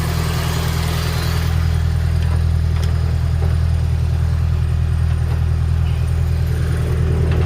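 A Toyota Corolla with a 5A engine drives along, its engine humming with a steady low droning rumble close by and loud throughout, faint road noise above it and no talking.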